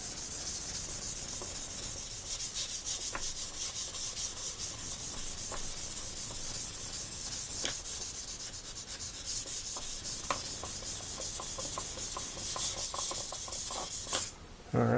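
Sandpaper wet-sands Plastidip over Krylon Fusion paint in a steady, close rubbing rasp, with faint scraping strokes and small clicks along the way.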